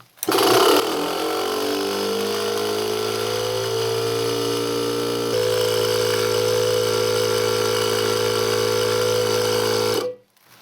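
Household water pump station motor starts and runs steadily, building pressure with a loud, constant hum and whine that steps slightly in pitch midway before cutting off abruptly, with no talking.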